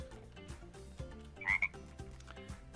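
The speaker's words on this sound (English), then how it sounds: "Are the tree frogs still in here?" Tree frogs in the Minecraft ZAWA (Zoo and Wild Animals) mod croaking in a steady, repeated rhythm, fairly soft, with a brief brighter chirp in the middle and music playing underneath.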